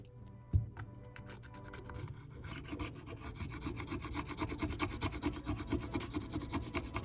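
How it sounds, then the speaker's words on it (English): A metal pry tool scrapes dust and gunk from the dirty frame of an iPhone XS, a steady close rasping that starts lightly and grows denser and continuous after about two seconds, with one sharp tap near the start. "I like to use this metal pry tool to just scrape away at the old frame"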